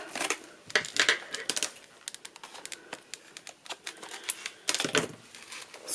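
A stubborn Wax It product package by Lora Bailora being forced open, with close, uneven bursts of crinkling and clicking plastic separated by short pauses.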